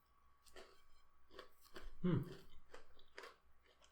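Someone chews crunchy Cadbury Dairy Milk Mint Crisp chocolate close up, with a series of distinct crunchy bites and jaw movements at a fairly even pace, one louder crunch in the middle.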